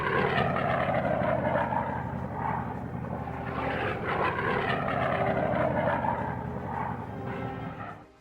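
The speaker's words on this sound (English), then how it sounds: "these P-47s are in a hurry to join the fray" Several P-47 Thunderbolt fighter planes flying in formation during wartime, a loud, steady propeller-engine roar that holds throughout and fades slightly at the very end, with no talk.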